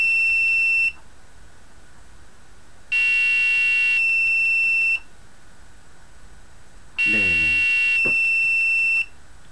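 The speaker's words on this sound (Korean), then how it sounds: "동시에 켜지고 동시에 꺼진 다음에 LED가 켜지고 부저가 울리고" A piezo buzzer in a programmed LED circuit sounds in repeated steady tone bursts about two seconds long, separated by quieter stretches with faint rapid beeping. The pattern repeats in a regular cycle, close and loud, with a brief voice under the last burst.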